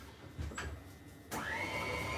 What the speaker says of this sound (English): I'm going to put this back on the mixer real quick just to stir it back up and soften it back up a little bit.